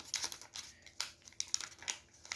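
Paper is folded and creased by hand for an origami sunflower spinning top, with crisp close crinkles and sharp pressing snaps scattered irregularly across a couple of seconds.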